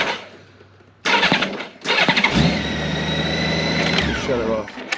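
A motorcycle engine with a crankshaft position sensor fault and a lit check engine light cranks, catches and runs at a steady close idle, then shuts off, with someone talking over it.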